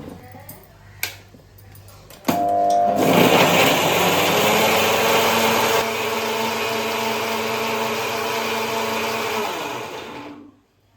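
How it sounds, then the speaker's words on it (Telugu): A mixer grinder whirs loudly after a few clicks and taps as it grinds a mixture with water, lid on, running steadily for several seconds, changing pitch once, then winding down and stopping. "మూత పెట్టేసుకుని మిక్సీ చేసుకోవడం"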